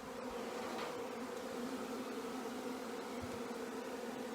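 A honey bee swarm moving into a hive fills the air with a dense, continuous buzzing drone, steady and even throughout, with no voices.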